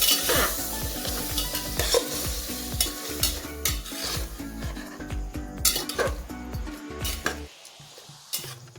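Marinated tripe (vajdi) frying in hot oil, a steady sizzle punctuated by repeated clinks and scrapes of a spoon stirring against the pan, close and fairly loud.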